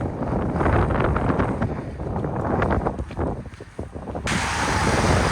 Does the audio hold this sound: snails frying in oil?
no